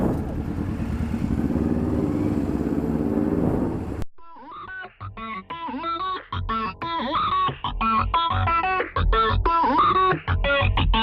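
A Kawasaki ZZR250 motorcycle is ridden, its engine droning under loud wind rush for about four seconds. An abrupt cut then leads into a choppy, tonal stretch of sound.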